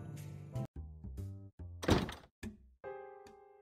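A door opens in the point-and-click adventure game Edna bricht aus, a short thunk standing out among quiet game music tones, with no talk over it.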